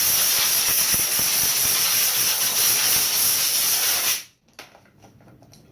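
A California Air Tools 10020C air compressor gives a loud, steady hiss for about four seconds, then cuts off abruptly, leaving a quiet room with a few faint knocks.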